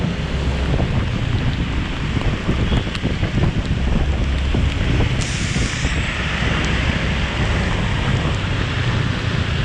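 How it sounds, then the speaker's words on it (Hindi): Steady, dense wash of rain on a car while driving, with heavy broadband hiss and rumble that stays loud and unbroken throughout, no voices. "मैं आपको बारिश में ड्राइव करने के मज़े दिलाता हूँ।"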